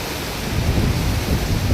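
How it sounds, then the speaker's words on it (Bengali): A nor'wester thunderstorm over open fields, with heavy rain and gusting wind making a loud, dense, continuous roar and low rumble throughout. "কি প্রচণ্ড হারে কালবৈশাখী শুরু হয়ে গেছে"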